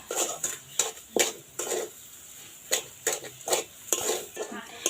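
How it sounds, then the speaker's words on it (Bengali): Semolina and sugar are stirred in a pan until the sugar melts, producing irregular scraping strokes of a spoon against the metal, close and fairly quiet, with a faint sizzle underneath. "এরপর এটা নাড়িয়ে চাড়িয়ে ভালোভাবে চিনিটা যাতে গলে"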